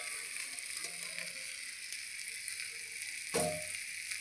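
Fried peas and potatoes sizzle steadily in a pan of spices for a vegetarian matar paneer, with faint stirring scrapes and a louder clatter of stirring near the end.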